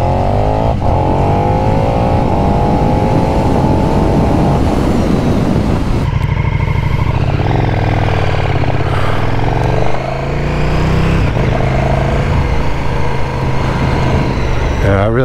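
A KTM 1290 Super Duke R fitted with an SC Project carbon exhaust accelerates hard, its loud engine note climbing in pitch through several gear changes, with a brief shift break around the middle and continuous roar throughout.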